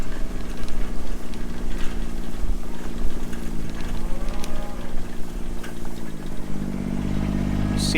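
A herd of cattle moos loudly and close by, with drawn-out calls over a steady engine-like rumble.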